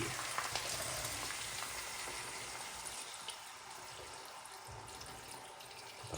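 Water hisses and sizzles steadily as it is poured into a hot frying pan while cooking hake, a continuous bubbling frying sound with no talking.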